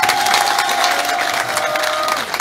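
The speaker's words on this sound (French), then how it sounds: "Il faut l'applaudir très fort." A large crowd at a political rally in Tabagne applauds loudly and steadily, a continuous wash of claps and cheers with a thin sustained whistle-like tone running through it.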